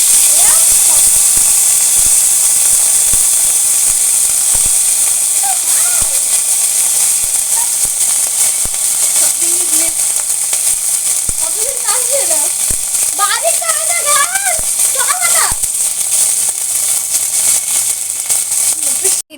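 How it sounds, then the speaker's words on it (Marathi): Spiced gravy tempering hits hot oil for matar paneer, giving off a loud, continuous, steam-like sizzle and hiss while voices, including children's, talk over it. "ग्रेव्हीला असं तेलामध्ये फोडणीला घालतात."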